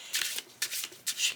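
Tarot and oracle cards being shuffled in three quick riffling bursts, each a crisp papery rush, close and fairly quiet with no talking.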